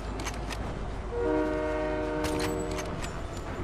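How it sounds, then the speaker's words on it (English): A train passing in a multiplayer shooter video game, a steady rumbling rush with a sustained multi-tone horn blaring for about two seconds in the middle, moderately loud. "he just got hit by the train"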